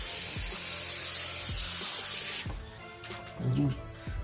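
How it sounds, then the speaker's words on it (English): Cooking spray hisses onto a Traeger pellet grill grate before bacon goes on, a steady close-up spray for about two and a half seconds, then cuts off leaving low clatter and background noise. "Okay, we spray this down right here"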